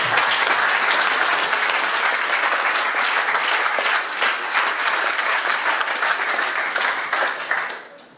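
A startup-event audience gives a loud, sustained round of applause for the jury, dense clapping from a large crowd that carries on for several seconds before tapering off at the end.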